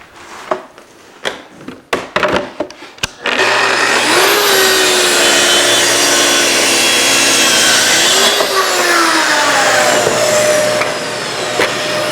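A power saw cuts wood along a TSO GRS-16 guide rail square: a few sharp clicks and knocks first, then the motor spins up into a loud, sustained cutting whine that holds steady for about nine seconds before winding down slightly.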